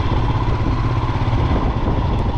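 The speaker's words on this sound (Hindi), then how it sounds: "वैसे तो ये बाइक भी दिखी है" A motorcycle engine drones steadily and loudly on a quiet mountain road near the Chanshal pass, with no voices.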